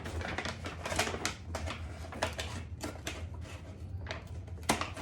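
Scissors cut through a paper bag in quick, uneven snips and crinkles, close up and fairly quiet, with several sharp clipped cuts in a row.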